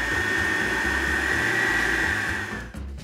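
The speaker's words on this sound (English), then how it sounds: "we're going to put this into the blender." A blender purees roasted pumpkin and dukkah soup with a loud, steady whirring drone. The drone holds for nearly three seconds, then cuts out abruptly.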